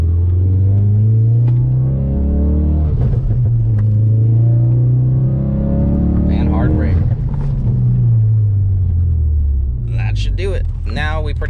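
Ford Focus RS coasting on the road to cool freshly bedded brakes, giving a steady low engine and road rumble throughout, with someone talking over it and a brief higher noise near the end.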